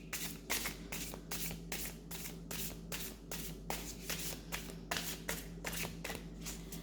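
A tarot card deck is shuffled by hand in a rapid series of crisp riffling bursts and flutters, close up and moderately quiet, repeating steadily throughout.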